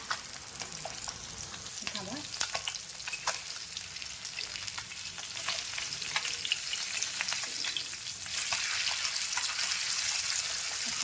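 Fish pieces fry on a hot tawa, a steady close sizzle and crackle that runs the whole time with occasional stirring scrapes and a rise in intensity near the end.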